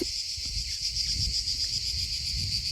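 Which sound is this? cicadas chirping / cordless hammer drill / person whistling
cicadas chirping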